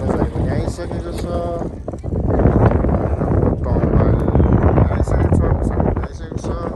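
Strong mountain wind in the Himalayas buffets the microphone with a loud, continuous roar that rises and falls, while people talk over it.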